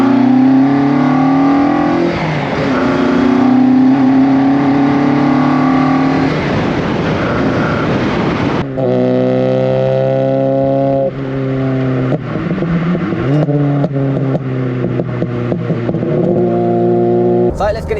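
A VW Mk1 Caddy engine fitted with twin Weber 45 carburettors revs hard, heard loud from inside the cabin, climbing and dropping through several sharp throttle blips and upshifts, with a voice talking over it.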